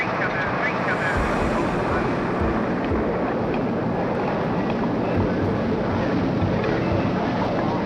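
The Explorer 1 rocket launches with a continuous, heavy, rumbling roar that fills the whole stretch at constant loudness, with no pauses or distinct breaks.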